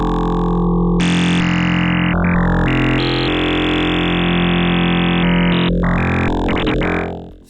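A wavetable wobble lead synth for psytrance, its FM oscillator amount mapped for movement, plays loud, buzzing sustained notes that shift pitch and texture in steps, ending in fast stuttering modulation.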